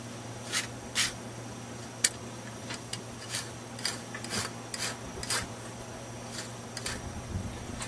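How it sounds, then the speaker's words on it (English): A hoof rasp files a goat's hoof flat in short scraping strokes, about a dozen quick rasps in an uneven rhythm, close and moderately quiet over a low steady background hum. "with our rasp here, just hit that just a little bit to"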